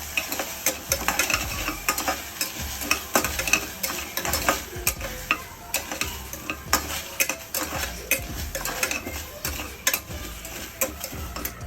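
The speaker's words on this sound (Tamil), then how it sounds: "ஃபஸ்ட்டு லைட்டாக ரோஸ்ட் பண்ணிக்கலாம்" Washed moong dal lentils lightly roasted in a pan for Kerala erissery: close, continuous scraping and stirring of a spoon against the pan with frequent metallic clinks and a faint sizzle, no voices.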